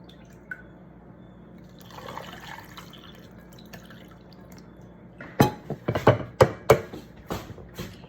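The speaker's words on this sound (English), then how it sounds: "Then you will pour your cold brine into this." Cold brine glugs and splashes into a glass jar of dill pickles in uneven bursts after a few quiet seconds of faint handling noise.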